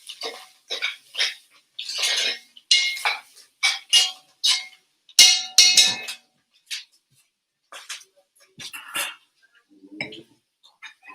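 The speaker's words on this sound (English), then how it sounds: "I'm going to add in the vegetables. Give it a stir." Vegetables are stirred in a hot pan, giving a string of sharp, irregular utensil clanks and scrapes against the metal with short quiet gaps between them. Nobody speaks.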